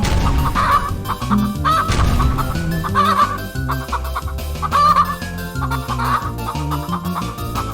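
Chicken clucking in the Chickozilla video game, repeated loud bawking clucks in an uneven rhythm over game music, close and prominent.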